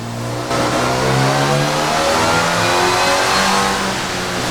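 A supercharged MGB B Series engine revs loudly and steadily, its harmonic engine drone rising and falling with a continuous high supercharger whine running on top, close and alone without talk.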